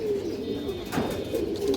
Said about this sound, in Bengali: এই দেখেন এক ডাউন শেপের কবুতর